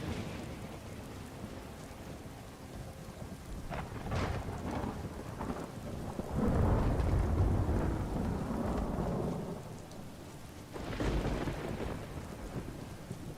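Thunderstorm in Skyrim with the Lorerim modpack: steady rain hiss under deep rolling thunder, with a big swell midway and another rumble later, loud and close.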